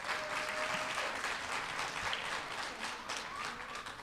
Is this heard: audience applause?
yes